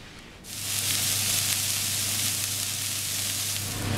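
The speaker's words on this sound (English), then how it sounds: "I'm gonna pan fry the vegetables. That's the celery, carrots, onion" Celery, carrots and onion drop into a hot pan and begin pan frying, a loud steady sizzle that bursts in after a brief quiet moment and holds evenly with a low hum beneath.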